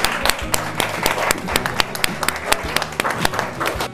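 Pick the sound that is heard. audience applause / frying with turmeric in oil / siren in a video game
audience applause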